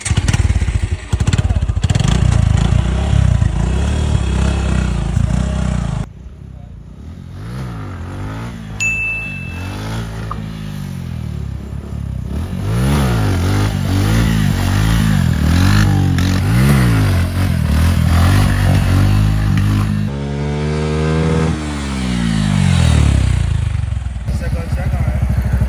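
Carbureted motorcycle engine revving hard through wheelies and stoppies, loud and close, rising and falling in pitch with bursts of throttle and brief drops, under a steady layer of voices talking.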